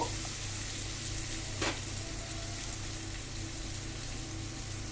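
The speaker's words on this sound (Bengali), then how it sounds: "পেঁয়াজটা দিয়ে আমি হালকাভাবে ভেজে নিয়েছি আলুটাকে।" Potatoes and onion fry in a pan over lowered heat, giving a steady, close sizzle throughout with one brief stirring scrape partway through.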